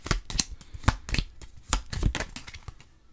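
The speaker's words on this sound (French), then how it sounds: "Donc, on va sortir 3 cartes." Tarot cards being shuffled and drawn from a deck: a close, quick series of crisp papery flicks and riffles at an uneven rhythm, with no voice.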